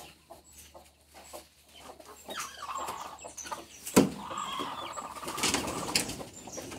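Chickens and chicks being let out of their pen, clucking and peeping close by with wings flapping and a sharp flurry midway, no talking.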